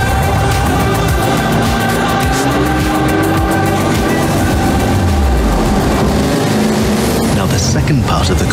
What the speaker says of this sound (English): You're piloting a DCB M31, one of the fastest boats ever created.